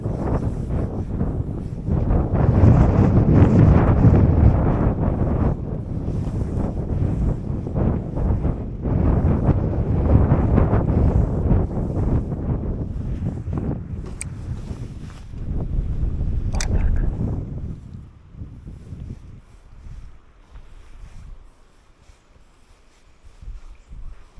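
Strong wind buffets and roars across the microphone while trout fishing, easing off near the end into a quieter outdoor hush.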